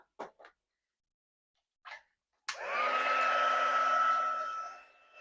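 After a few brief clicks and taps, a heat tool switches on and blows loudly for about two seconds while heat-setting a craft project, a whooshing hair-dryer-like roar that then cuts off.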